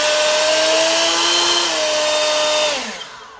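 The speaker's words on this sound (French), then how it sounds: "on est capable de varier la puissance du souffleur à l'aide du contrôleur" A leaf blower roars loudly and close at varying power, its steady rushing air and whining motor tone slightly shifting in pitch, then winding down as the power drops near the end, with no talk.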